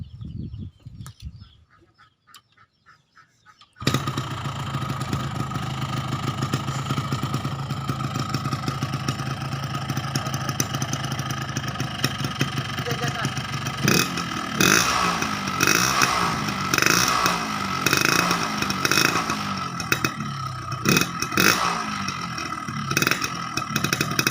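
A Yamaha RX King motorcycle engine starts after a brief quiet moment, then runs loud and close with a steady idle and repeated sharp throttle revs that swell and fall, the engine alone with no talk over it.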